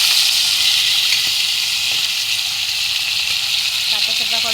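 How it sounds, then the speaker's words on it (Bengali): Large rohu fish pieces frying in hot oil, a loud, continuous, close sizzling hiss that stays steady throughout, with faint clinks near the end. "তেলটা গরম হয়ে গিয়েছে। দিয়ে দিব এবার মাছগুলো, অনেক বড় বড় পিস মাছের,"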